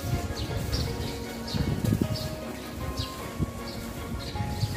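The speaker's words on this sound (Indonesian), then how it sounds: "Di sini itu masih ada suara burung-burung berkicau karena ada pepohonan yang rindang." Birds chirp among shady trees on a morning walk in Dago, with repeated short, high tweets scattered over a steady background of footsteps and outdoor rumble, fairly faint, with no clear talking.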